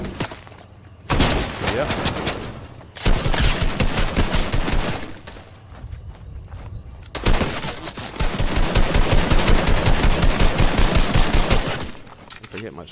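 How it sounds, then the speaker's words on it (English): Rapid automatic gunfire in a Fortnite match, loud bursts of repeated shots split by short pauses, with someone briefly speaking over it. "Somebody shooting at me."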